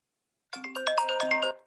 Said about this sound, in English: Sorry, phone ringing.